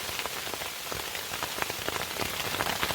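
A steady dense patter of hail pelting a Sierra Designs Clip Flashlight 2 tent close by, constant and loud with scattered sharper ticks, no voices.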